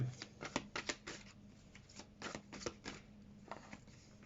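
Playing cards being drawn and shuffled close up, a run of crisp riffling flicks and slaps in irregular bursts, quiet and without talk.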